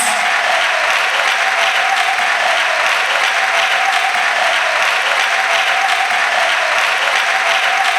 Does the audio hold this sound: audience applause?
yes